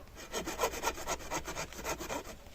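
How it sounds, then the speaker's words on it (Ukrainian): Steady back-and-forth strokes of a hand saw biting through firewood outdoors in winter, a quick even rasping rhythm, close by with no talking. "И пиляю реально прикольно"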